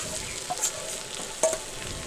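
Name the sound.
mashed potato frying in a wok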